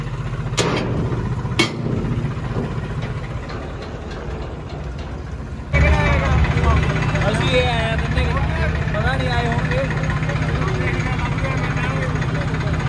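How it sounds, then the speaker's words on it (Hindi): A modified Farmtrac 60 tractor engine runs at a Dussehra gathering, a steady low idling rumble that grows louder partway through, with people talking over it. "इन्हें आप ट्रैक्टर बाहर कढ़ते हैं।"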